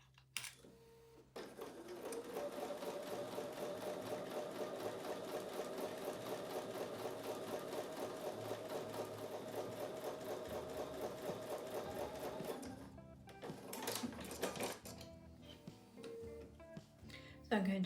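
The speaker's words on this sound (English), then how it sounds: "So I'm going to take that to the sewing machine and sew a 1/4 inch seam on both sides" A domestic sewing machine runs steadily for about eleven seconds, stitching a quarter-inch seam along a drawn line on a Martha Washington Star quilt block, its rapid even needle chatter close and clear, with brief handling sounds before and after.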